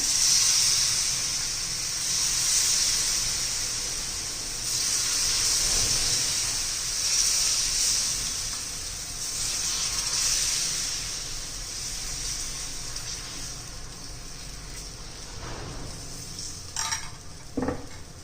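Tomato dosa batter sizzling on an oiled pan, a steady close hiss and crackle of frying that swells and fades slightly throughout, with a few brief metallic clinks near the end.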